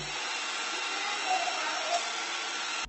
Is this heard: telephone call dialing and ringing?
no